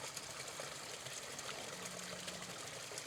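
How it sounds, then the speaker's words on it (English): Small roadside stream of water flowing, a constant soft trickle and babble, faint and steady with no talking. "Here's another area where you've got water, little stream here."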